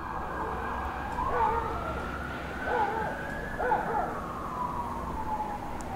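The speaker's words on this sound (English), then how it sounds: "Got some traffic going by there." An urban traffic ambience layer built in Krotos Studio Pro carries a steady wash of passing vehicles, and an emergency siren wails and sweeps through it at moderate distance.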